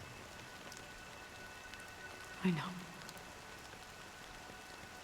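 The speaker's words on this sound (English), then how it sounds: "But it's still raining." Steady rain falls in Honkai Star Rail, a soft continuous hiss that runs through the whole stretch. A brief voice speaks partway through.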